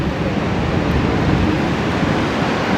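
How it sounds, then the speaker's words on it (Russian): The wide Niagara River rushes past near Niagara Falls, seen from a boat heading toward the falls, as a loud, continuous roar of water with steady broadband noise and no voices. "Огромная полноводная река Ниагара стекает просто огромными мощными водами"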